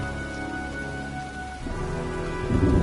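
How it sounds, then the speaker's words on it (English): A brewing storm in a game, steady rain pattering on surfaces with a low rumble of thunder swelling louder toward the end, continuous with no talk. "looks like a storm's coming"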